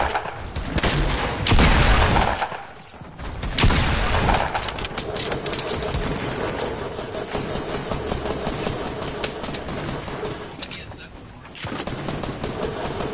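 Fortnite gunfire, with shotgun blasts and weapon fire booming in dense bursts early on, then a steady rumble of game noise beneath the action throughout.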